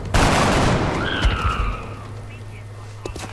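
Gunfire from soldiers shooting in XCOM: Enemy Unknown, a burst of dense crackling shots at the start that fades into a steady hum, with a voice talking over it.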